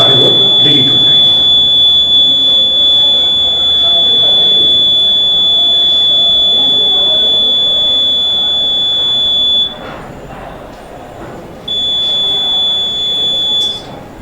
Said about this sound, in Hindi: एक लंबी बीप सी आवाज होगी और जितने भी वोट इसमें पड़े हैं वो सारे वोट डिलीट हो जाएंगे